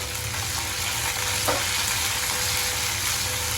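Garlic, ginger, green chili and curry leaves sautéing in hot oil for a mushroom roast, a loud, dense and continuous sizzle close up, with no voices.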